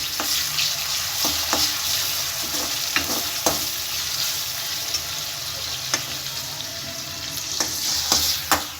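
Chopped onion and tomato frying in oil in a pan, a steady dense sizzle with repeated scraping stir strokes and clinks throughout.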